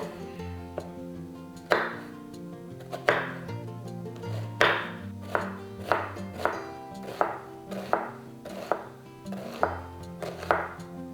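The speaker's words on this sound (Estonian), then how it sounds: "Aga kõigepealt tükeldan sibula." An onion being chopped with a knife on a cutting board, about a dozen sharp, evenly spaced blade strikes. The chops are close and distinct and pick up pace toward the end, with no talking.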